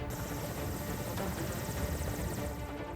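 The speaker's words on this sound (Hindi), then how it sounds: "बस्तर इलाके में हेलीकॉप्टर से पोलिंग टीम को पहुंचाया गया" Helicopter carrying a polling team over the Naxal-affected Bastar region of Chhattisgarh, heard as a steady, loud rotor and engine drone that holds for the whole three seconds, with no voices.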